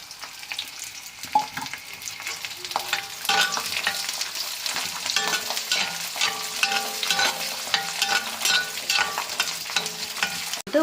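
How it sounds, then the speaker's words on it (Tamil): Chilies, garlic and shallots fry in a pan for a South Indian chutney, giving a continuous loud sizzle with frequent scraping stirs and clinks. No one speaks. "இப்போ மிளகா ஆட் பண்ணிவிட்டு கொஞ்சம் ஃப்ரை பண்ணிக்கலாம்"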